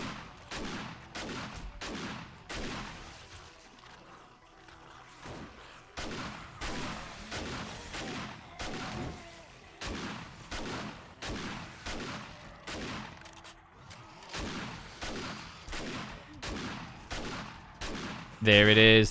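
Gunfire in the video game 7 Days to Die, Alpha 20.6: a long string of sharp shots at a fairly regular pace, each one distinct, ending in a louder final burst.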